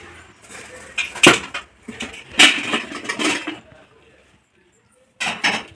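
Metal lid lifted off an idli steamer pot after steaming biscuit idli, giving a few close metallic scrapes and clanks, with a short quiet gap before a final clink.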